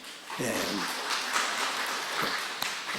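A church congregation at a Sunday service claps along, steady soft applause heard from a distance, with a brief voice near the start and a few sharper taps standing out.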